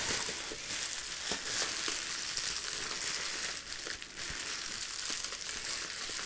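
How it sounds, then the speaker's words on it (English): Dense, continuous crinkling and crackling of bubble wrap being squeezed and handled up close, with occasional small pops scattered throughout. "I'm going to play with the bubble wrap for a moment first."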